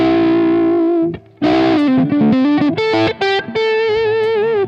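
Gibson SG electric guitar on the neck pickup, played through an overdriven amp: a short, loud lead phrase of sustained bent notes and quick runs with a brief pause, no talking.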